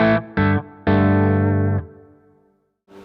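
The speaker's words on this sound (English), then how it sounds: "the amp's breaking up a little bit" An electric guitar runs through a REVV Tilt overdrive pedal into an amp that is breaking up slightly, giving three distorted picked notes or chords, the last one sustaining and decaying before a new note starts.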